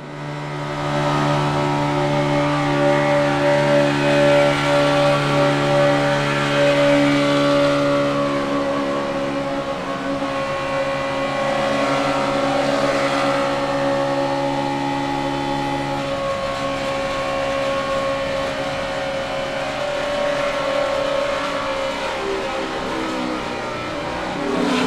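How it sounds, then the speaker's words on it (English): NASCAR race car engine running down the Talladega Superspeedway backstretch during the 2011 Aaron's 499, a steady loud droning roar with sustained harmonic whine that rises and swells slightly, no talk. "let's give a listen to David Reagan's engine as he goes down the backstretch."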